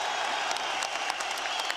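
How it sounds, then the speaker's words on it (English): Rapturous applause from a fight crowd after a kickboxing knockout between heavyweight fighters Jaraya and Nordin Ben Moh, a dense, steady wash of clapping filling the whole stretch with no voices over it. "A rapturous applause, and justifiably so"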